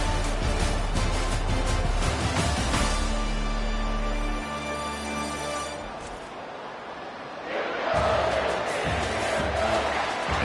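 A big stadium crowd roars in a college football video game, USC at Michigan, a dense, loud wall of cheering that swells, dips midway, then surges again.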